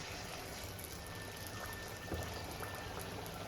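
Pappada vada, papad dipped in batter, frying in hot oil, a steady close bubbling hiss with fine crackle throughout and no voices.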